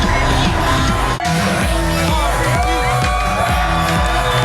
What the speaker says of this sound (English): Look at that crowd out here in Times Square